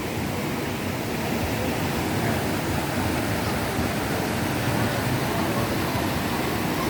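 A strong river current, wadeable only with the help of a handhold line, roars in a dense, unbroken rush of water noise, loud and close for the entire stretch with no voices standing out.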